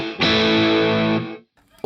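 A single sustained electric guitar chord rings through a Boss Katana amp with a modulated reverb effect, holding bright and loud for about a second before cutting off, followed by a brief quiet tail.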